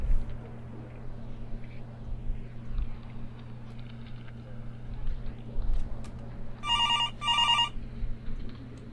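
Telephone ringing in the video game Overtime, two short bright electronic rings near the end over a low game hum and faint background noises.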